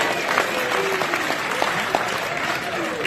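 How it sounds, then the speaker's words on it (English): An audience claps for a fellow attendee at a real estate sales seminar in Scottsdale, a steady, moderately loud patter of many hands that continues for about three seconds. "So just do me a favor, clap it up for your buddy."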